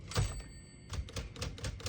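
A 1957 Smith-Corona Silent-Super portable typewriter has its margin release mechanism worked, giving sharp mechanical clacks and a ringing ping, then a quick run of close keystrikes.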